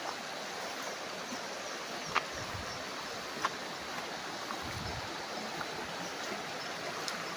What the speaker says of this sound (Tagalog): Ito yung naka-front sa ilog na part ng property.